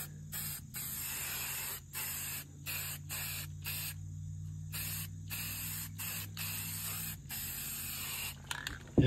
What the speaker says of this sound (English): A little black spray paint, maybe?